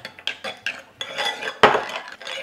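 Spoon stirring natural yogurt in a bowl, a run of close, distinct clinks and scrapes against the bowl in an uneven rhythm, with one louder knock near the end.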